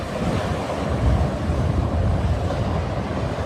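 Rough sea at Morant Point in St Thomas, Jamaica, crashes against the rocks in a continuous loud roar of surf, with heavy wind buffeting the microphone the whole time.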